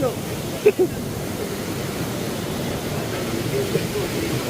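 Water pours steadily into a rock pool beneath a waterfall in Sri Lanka, a constant broadband rush filling the scene with a couple of brief faint sounds near the start.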